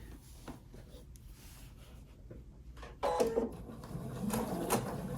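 A sewing machine stitches down the side of a quilted tulip-square glass case, quiet at first and then running in a louder, steady mechanical whir for the last couple of seconds.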